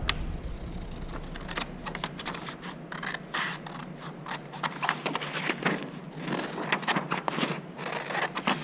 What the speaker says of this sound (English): you're going to take your scissors and cut that out.